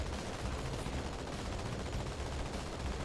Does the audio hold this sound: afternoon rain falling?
no